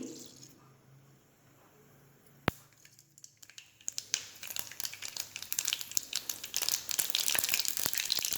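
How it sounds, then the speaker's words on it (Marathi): Mustard seeds spluttering in hot oil for Marathwada-style puri bhaji: a quiet sizzle, then one sharp pop, then a steadily building crackle of many small, close pops. "तेल गरम झाले. पहिल्यांदा मोहरी,"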